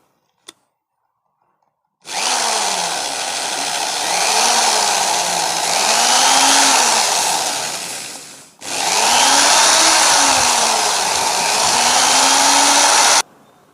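A fan motor shaft is sanded with fine 2000-grit sandpaper while the motor spins, giving a loud steady whirring hum whose pitch wavers up and down. It runs in two long stretches with a short break between them.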